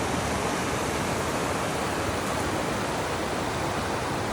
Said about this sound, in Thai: เดินมานิดเดียวที่ว่าได้ยินเสียงน้ำตกนะคะ